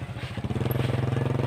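A motorcycle engine labors on a muddy road, its idle settling into a steady, rapid putter close by after a rougher start.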